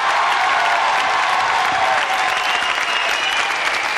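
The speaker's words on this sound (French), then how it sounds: "Applaudissements pour Patrice Carmouze," Steady, dense applause from a studio audience on a French TV variety show, loud and sustained without a break, with no voices over it.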